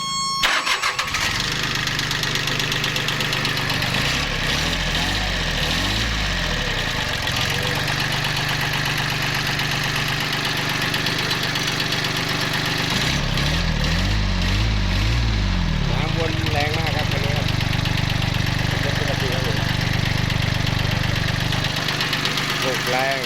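A small Japanese-built three-cylinder tractor engine runs loud and close, with rising revs that climb and fall in repeated bursts over a rough, knocking idle, with someone talking at times.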